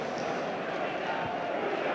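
Football crowd at the Arsenal v Chelsea FA Cup quarter-final, a dense, steady roar filling the stadium throughout, broad and continuous with no breaks.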